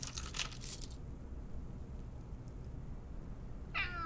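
A cat meows once in a hidden-object adventure game, Dark Romance: Vampire Origins, a short rising cry near the end after a brief burst of crunchy, crinkling sound effects, with nobody speaking.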